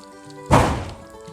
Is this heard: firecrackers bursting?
yes